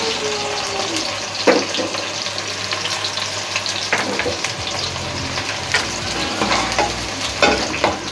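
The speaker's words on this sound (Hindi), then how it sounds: "इसके बाद प्याज, प्याज हल्की ब्राउन करनी है बिल्कुल।" Onions sizzling as they fry toward light brown for an aloo palak curry, a continuous crackling hiss with occasional scrapes and stirring clinks of a spoon in the pan, close and fairly loud.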